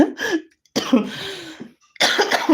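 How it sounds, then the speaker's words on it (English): Three harsh, wet coughing fits in quick succession, close and loud, separated by brief silences. "I pray that this cough just stop"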